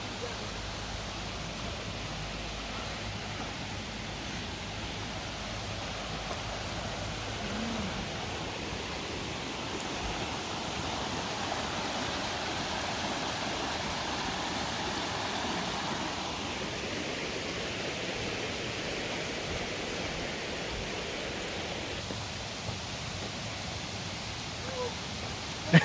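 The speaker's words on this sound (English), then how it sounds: "you can hear the waterfall" A waterfall in Karura Forest rushes as a steady broadband hiss that holds evenly throughout, with faint outdoor ambience and no clear talk.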